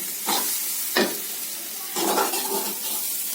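Chopped broad beans (flat beans) fry in a pan with gram flour and dried red chillies, a soft steady sizzle broken by a few louder scraping stirs of a spoon against the pan.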